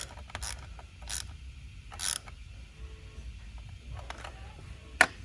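Screws are driven by hand into a ski to mount Dynafit touring bindings, giving soft creaking, ratcheting turns with a few sharper clicks, close and fairly quiet with no talk.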